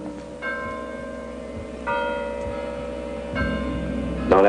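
A church bell rings in slow, evenly spaced strokes, about four heavy chimes, each leaving a long resonant hum that carries over into the next, heard clearly and alone.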